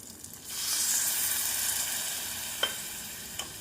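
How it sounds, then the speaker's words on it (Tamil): Tamarind water is poured into a pan of frying onions for kulambu, setting off a sudden loud sizzle that hisses steadily, broken by two light clinks of a spoon against the pan. "நாம் இந்தளவு புளி தண்ணீர் ஊற்றிவிடலாம்"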